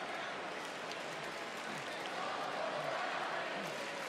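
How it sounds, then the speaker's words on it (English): A sold-out WWE Raw arena crowd chants for Uncle Howdy during his match with Chad Gable, a steady, distant roar heard faintly under a commentator's voice. "And the Uncle Howdy chant from a sold-out crowd tonight."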